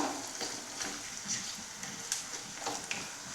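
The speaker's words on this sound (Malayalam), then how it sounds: "ഈന്തപ്പഴം ഇട്ട് ഒന്ന് രണ്ട് മിനിറ്റ് ഇളക്കി കൊടുത്തതിന് ശേഷം" Chopped dates stir-fried in a pan for a beetroot and date pickle, a close, steady sizzle with soft scraping stirs and a few light taps of a spoon against the pan.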